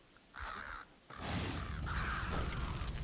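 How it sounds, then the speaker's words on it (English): Crows cawing in the Feywild area of Dungeons and Dragons Online, two harsh calls at moderate distance, the second longer and overlapping with more cawing over a low background rumble. "With all these damn birds."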